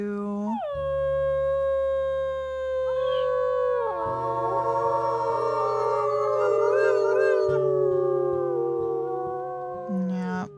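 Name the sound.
wolves howling in the video game WolfQuest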